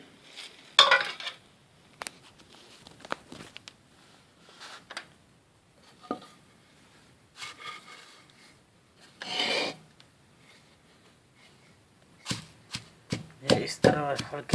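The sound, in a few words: cleaned leaves being put into a kundi (mortar)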